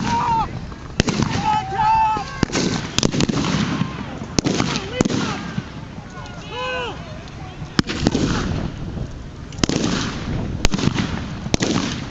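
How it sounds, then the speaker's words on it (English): Artillery barrage in a war documentary about Operation Dragoon: repeated sharp booms and cracks of gunfire at irregular intervals over a busy battle background, with shouted voices and whistle-like tones in between. "Captain Brian Mason calls for another artillery barrage and tries to rally his men"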